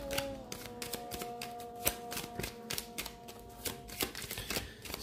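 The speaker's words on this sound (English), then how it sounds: "Let's get to shuffling." Lenormand cards being shuffled by hand, a steady stream of soft, close papery flicks and taps running throughout, with no talking.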